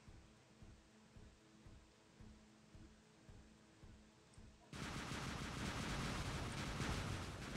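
Robot weapons fire in the PC video game War Robots: rhythmic repeated shot bursts give way to a dense, continuous barrage of heavy gunfire.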